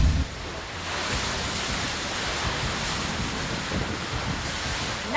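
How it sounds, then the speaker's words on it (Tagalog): Strong wind and rain from a whirlwind in Kabankalan City, Negros Occidental, a loud steady roaring rush with buffeting gusts against the microphone, no voices, continuous for the whole stretch. "ang nabatsyagan nga mabaskog nga hangin kadungan sang ulan"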